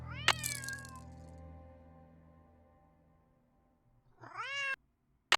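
Yuri the cat meows in the Nancy Drew game Secret of the Old Clock, a loud drawn-out wail at the start that fades, then a second rising meow after a pause, clear and alone without speech.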